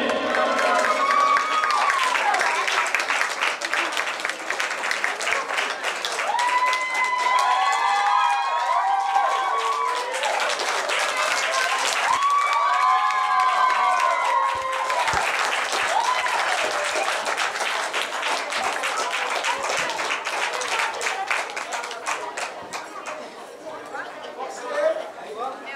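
Big audience applause and cheering for a live band and singer at a concert finale, loud sustained clapping with crowd chatter, while a host talks over it with amplified voice.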